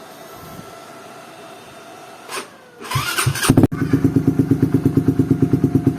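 A motorcycle fitted with an oval Pacman Racing exhaust is cranked and fires up, revving briefly before settling into a loud, close, steady idle with a firm rhythmic thump.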